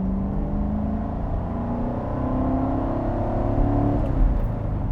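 A Corvette Stingray accelerates hard in first gear, its engine note climbing in a loud, steady rising drone heard from inside the car, with no talk.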